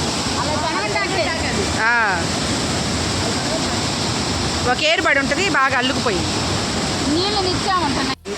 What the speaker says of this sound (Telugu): రెండు గేట్లు తీశారు పాల నురుగులా పరిగెత్తుతున్నాయి నీళ్లు